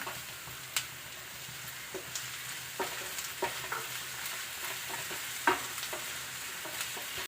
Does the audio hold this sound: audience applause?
no